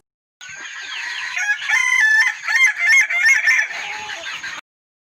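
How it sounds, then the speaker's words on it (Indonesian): A chicken in its coop squawks and shrieks in a loud, frantic, continuous burst of cackling cries lasting several seconds, close by and with no talk over it. "ayam itu memekikkan suaranya"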